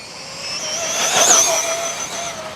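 A Traxxas Rustler RC car spins its tires to warm them, a high electric motor whine with a swelling screech of tire squeal that peaks mid-way, close and loud, no talk.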